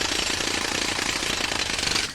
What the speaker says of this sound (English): his handy Dyson Cyclone cordless jackhammer